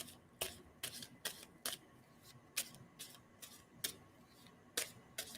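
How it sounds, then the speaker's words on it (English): Tarot cards are shuffled by hand, producing a string of sharp, crisp card snaps and taps at irregular intervals against a quiet room, with no talking. "I'm going to stop shuffling"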